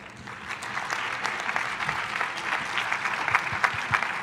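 Audience applause at a public panel discussion on the history of science and race, a steady wash of clapping from many hands lasting throughout, moderately loud, with no voices over it.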